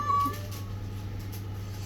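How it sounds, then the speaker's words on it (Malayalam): A jungle cat yowls at domestic cats that are eating, a moaning cat cry with a sharp high note at the start, heard over a steady low hum without any talk. "കണ്ടം പൂച്ച ചീത്ത പറയാണോ? ചീത്ത പറയുന്ന പോലെ ഉണ്ടല്ലോ."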